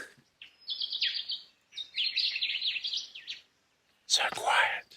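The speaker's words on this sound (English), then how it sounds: "birds are singing to each other." Birds sing at the bottom of a quiet river gorge, with bursts of high chirping and trills from fairly close by, separated by short silences, and a louder rustling burst near the end.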